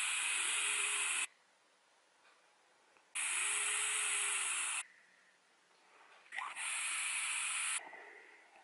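Vaping on a Hellvape Dripper Anglo RDA with a 0.6 ohm coil at 40 watts: three long airy hissing draws, each about one to two seconds, separated by quiet pauses, close and steady.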